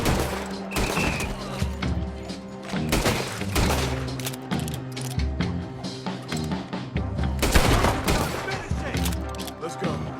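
Repeated gunshots and thuds during a Red Dead Redemption 2 shootout, irregular cracks spread over the whole stretch amid music and scattered speech.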